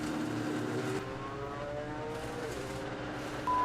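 Ford GT race car engine at Le Mans drones steadily at high RPM, with rising harmonic lines as revs climb over a constant loud roar of onboard noise.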